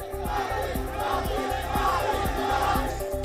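A dense roadside crowd in Bihar, India, roars steadily as the Prime Minister's convoy passes, with a continuous loud wash of voices and a steady drum-like thumping rhythm underneath throughout.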